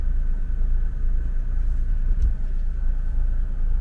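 A 1965 Mercedes 250SE with a manual four-speed transmission drives along, its engine a loud, steady low rumble heard from inside the cabin, with a brief change in tone as a gear shifts.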